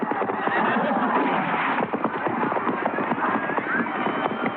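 Horses galloping in the Palio horse race in the city, a dense rumble of hoofbeats mixed with a loud, roaring crowd throughout.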